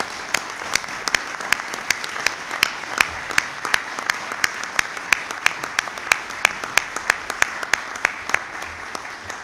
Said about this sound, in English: I thought we'd give him a round of applause right now